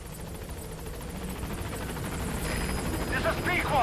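Pequod, a transport helicopter in the video game Metal Gear Solid V, approaching a landing zone: a steady rotor drone that grows louder over a few seconds, with radio-style voice chatter layered on top.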